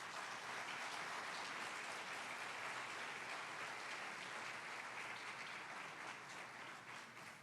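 Sustained applause from an audience at a national judiciary communication conference in Brazil, honoring a late journalist; dense, steady clapping that fills the room at even loudness throughout before tapering slightly near the end.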